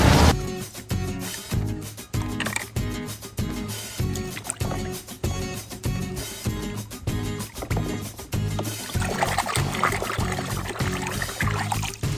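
Water from a garden hose pouring and splashing over muddy toy minicars outdoors, a loud, continuous rushing spray with rhythmic dripping and spattering throughout.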